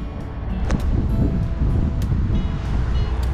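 Strong wind buffets the microphone at the water's edge during a fishing outing, a loud, continuous low rumble with faint splashing and no voices.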